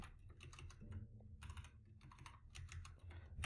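Rapid typing on a computer keyboard, bursts of close, crisp key clicks separated by short pauses.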